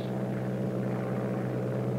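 A steady propeller engine drones evenly at a constant pitch, a continuous low rumble heard from inside the aircraft.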